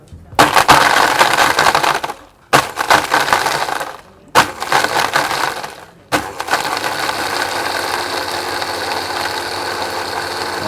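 A KitchenAid blender whips a Caribbean-style cocktail with ice, roaring and crushing in three short loud bursts with abrupt pauses between them, then a steadier sustained run.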